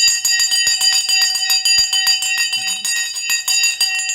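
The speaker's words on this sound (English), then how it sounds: "The bell is going now." A stock market closing bell rings in rapid, steady repeated strikes, a bright metallic clanging that sounds continuously and loudly with no talk.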